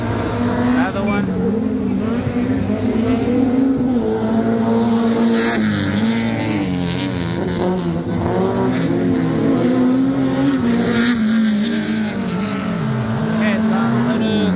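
Small 1600 cc rallycross race cars, among them a Citroën, roar past loudly one after another, engines droning and shifting pitch continuously throughout.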